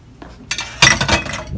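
A cup handled up close gives a few sharp clinks and clatters in quick succession, loud and bright against a quiet background.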